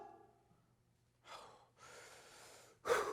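Deep breaths, heard as a few separate airy inhales and exhales close to the microphone, with the last one the loudest, after a faint low hum.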